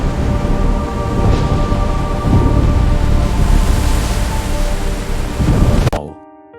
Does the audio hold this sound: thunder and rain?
yes